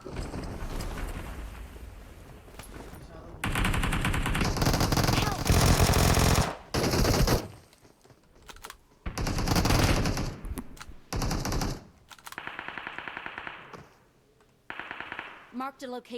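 Automatic weapon fire in PUBG on the Erangel and Livik maps, with long, loud sustained bursts and shorter rattling volleys, and a player's voice speaking over the quieter stretches.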